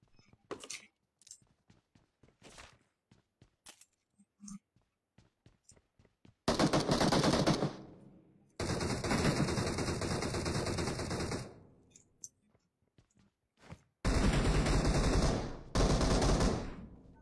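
Bursts of M4 rifle fire in a video game: scattered single shots and clicks at first, then several long, loud automatic bursts broken by short gaps, with no talking.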